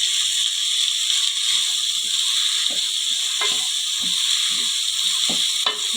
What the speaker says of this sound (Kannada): ಈಗ ನಾನು ಒಂದು ಸ್ವಲ್ಪ ಅರಿಶಿನ ಪುಡಿ ಹಾಕಿ ಫ್ರೈ ಮಾಡ್ಕೊತೀನಿ